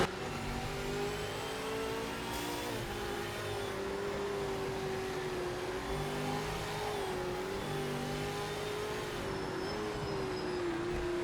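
Simulated Ford Falcon race car engine at Bathurst, a sustained mid-pitched roar holding near-constant revs with slight wavering pitch, steady and prominent throughout.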